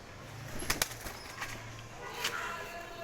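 A female Giribaz pigeon is released and flaps its wings in a few quick, close bursts, with soft background noise throughout.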